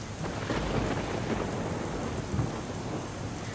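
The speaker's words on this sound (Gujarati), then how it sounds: "ધોધમાર વરસાદ વરસી રહ્યો છે।" Heavy monsoon rain pours steadily in Vaghai taluka of Dang, Gujarat, a dense, constant roar of downpour with rumbling low tones like distant thunder beneath, unbroken and fairly loud throughout.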